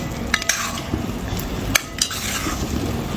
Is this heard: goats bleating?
no